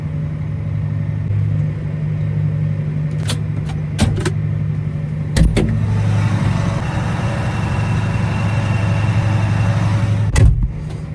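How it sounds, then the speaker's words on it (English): A farm tractor's engine idles and runs steadily as the tractor is moved into the sun during harvest, a low continuous rumble with a few sharp clanks and metallic knocks scattered through it. "I'm gonna move the tractor over here into the sun"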